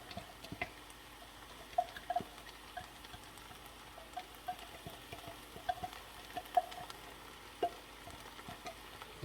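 Jalapeños, carrots and celery sautéing in a pot for chili, giving a faint, steady sizzle with scattered light ticks and clinks of stirring throughout, no voices.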